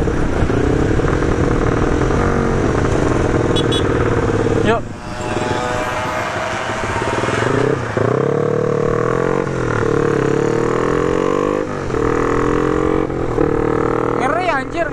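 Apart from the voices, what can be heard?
motorcycle engines knocking at start, Honda Sonic, Tiger, Yamaha Aerox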